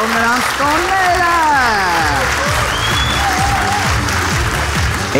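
An audience at an Armenian stand-up comedy show claps steadily and loudly throughout, while someone speaks over the applause.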